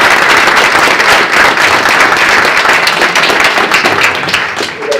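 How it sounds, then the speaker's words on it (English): Audience applause at a Mat-Su Valley senate candidate forum, steady and loud clapping from a crowd filling the whole stretch, tapering slightly near the end. "Let's go and give them a big round of applause, please."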